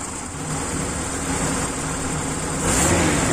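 A car engine revs steadily after its carburetor has been serviced and adjusted, a loud continuous drone that climbs slightly near the end, with no talking.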